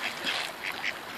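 Ducks at a park quack a few times in quick succession, nasal calls close by over light outdoor background noise.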